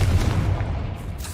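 A Confringo explosion spell bursts in Hogwarts Legacy with a loud, dense low boom that rumbles steadily through the whole moment and fades only slightly toward the end.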